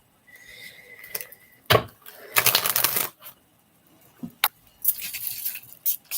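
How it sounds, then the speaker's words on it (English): A tarot card deck being shuffled by hand, with quick papery riffles and slaps coming in bursts and brief pauses between them, close and fairly clear. "Let me shuffle this out."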